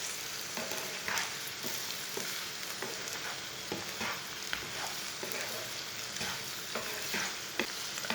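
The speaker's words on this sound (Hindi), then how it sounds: "सब मसाले डाल के 2 मिनट तक भून लेना" Whole and ground spices, turmeric and coriander seeds among them, roasting in a pan for okra, with a steady sizzle under repeated scraping stirs of a spoon, close and continuous with no talking.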